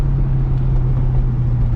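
A stock Chevrolet Corvette C6 Z06 drives a drag strip in third gear, its engine giving a loud, steady, close low rumble throughout with no break or speech.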